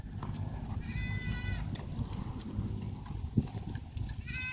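A goat on a family farm bleats amid steady outdoor background noise, moderately distant, with a brief sharper sound near the end.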